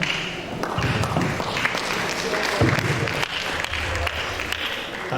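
Audience applause after a lecture at an Estate Management alumni reunion, a steady dense wash of clapping that fills the whole stretch, with occasional louder thumps and some talk mixed in.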